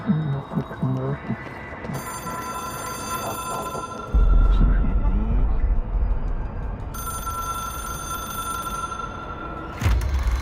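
A telephone rings in the video game Control, with repeated bursts of a bright electronic ring separated by a pause, over a low ambient hum and rumble.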